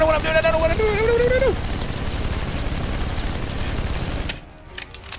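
Rapid AK rifle fire in the Injustice: Gods Among Us fighting game, a loud continuous fusillade of shots lasting several seconds before cutting off. A voice speaks over the opening of the burst.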